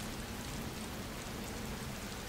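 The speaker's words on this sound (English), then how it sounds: "It just suddenly started raining." Rain falls in the video game Watch Dogs as a steady, even hiss of drops on surfaces. It holds at a moderate level without pause and with no voices.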